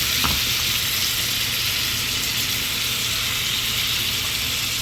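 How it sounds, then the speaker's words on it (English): Pork loin sears in a hot pan with a loud, continuous, close-up sizzle that holds steady throughout, with no talking. "Oh, listen to that sear. Nice hot pan."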